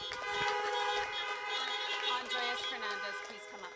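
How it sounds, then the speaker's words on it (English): Many car horns honk together as applause at an outdoor drive-in graduation ceremony, a sustained overlapping blare of toots of varying pitch, moderately distant, lasting the full few seconds with no pause. "Let's give him one more honk of applause."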